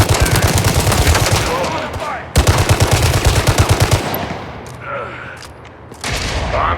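Rapid bursts of automatic gunfire from the Gangstar Mirage City mobile game, loud and close, broken by short pauses and a few single shots.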